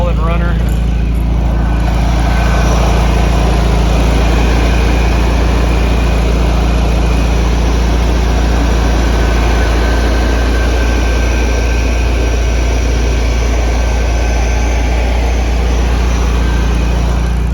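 A 1971 VW Bus Westfalia engine idles loud and close with a steady, deep rumble that holds without change throughout.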